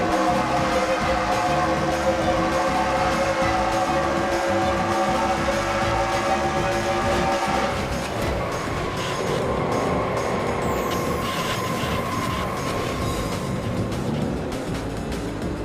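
A race car engine in an online racing game league at Indianapolis roars steadily from onboard, with a continuous loud drone that shifts pitch midway and keeps going without a break.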